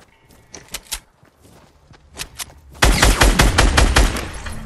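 Video game gunshots: a few scattered single shots and footstep-like thuds, then a loud, dense burst of rapid fire that continues close and heavy until the end.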